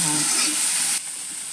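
Bitter gourd frying in a pan until reddish, a steady close hiss of sizzling oil that drops a little in level partway through.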